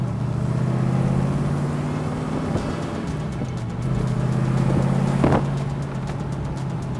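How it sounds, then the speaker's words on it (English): A 1974 Corvette running with exhaust baffles and no mufflers, a steady low throaty drone with a brief sharp rise near the end, heard from close by without talk. "the exhaust sounds really nice"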